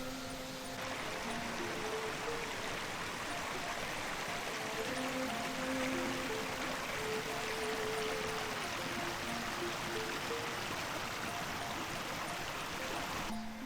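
Clear mountain valley stream at the headwaters of Geomeundol Valley, water babbling and trickling steadily over rocks, a continuous close rush with no pauses throughout.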